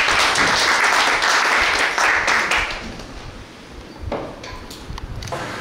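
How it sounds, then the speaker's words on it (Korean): An audience at a public hearing on dental auxiliary staffing applauds a presenter, giving a few seconds of dense clapping that fades out. A handful of sharp, isolated claps or knocks follow in a quieter room. "박수 부탁드립니다."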